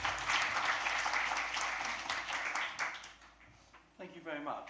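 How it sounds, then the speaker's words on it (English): Applause from a conference audience at an international conference on contemporary Korean studies, a dense burst of clapping that thins toward the end as a voice begins speaking. "Let's extend our warm welcome and appreciation with a round of applause"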